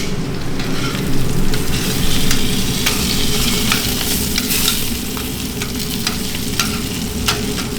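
Sausages for currywurst fry in a restaurant pan, a steady, close, loud sizzle with faint crackles and scraping throughout and no voices.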